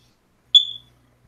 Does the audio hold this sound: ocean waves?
no